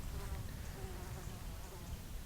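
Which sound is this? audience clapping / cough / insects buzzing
insects buzzing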